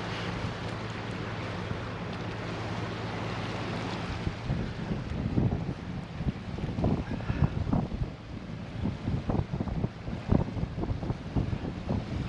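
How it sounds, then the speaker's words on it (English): Wind buffets a GoPro Hero 8 microphone on a day out at Swanage, a rough, low rumbling roar with irregular gusty thumps that grow stronger in the second half. "Quite windy up."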